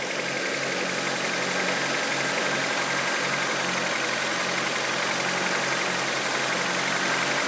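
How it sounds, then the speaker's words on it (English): A 2002 Honda CR-V with a swapped engine idles steadily and loud up close, a dense even drone with a faint power steering pump whine running underneath, unbroken for the whole stretch. "I've got to top off the power steering pump. The pump's whining a little bit."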